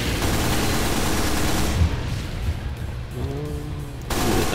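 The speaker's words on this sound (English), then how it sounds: "This is my primary gun." Rapid gunfire from a player's primary weapon in Team Fortress 2 crackles in dense, loud bursts for most of the moment, easing briefly before another burst at the end.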